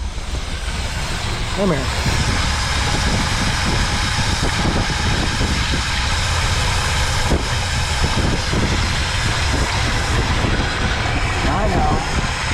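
Classic car engine running loudly just after a cold start, a constant dense roar with a whirring clutch fan, close and unbroken throughout while people talk over it.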